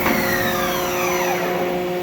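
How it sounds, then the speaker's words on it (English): The spindle of a Union BFT 105 CNC horizontal boring mill brakes down from high speed. A close mechanical whine slides steadily lower in pitch over about two seconds under a constant machine hum. "Spindle brake works."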